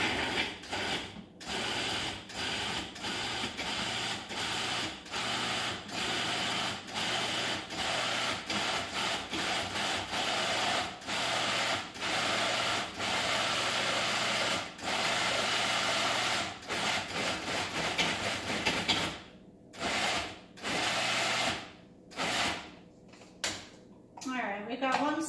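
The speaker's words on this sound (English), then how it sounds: "now we're gonna just pulse until it is fully incorporated" A food processor pulses beets and onion for beet burgers, a rapid series of close, loud chopping bursts with a grinding rattle, broken by short pauses near the end.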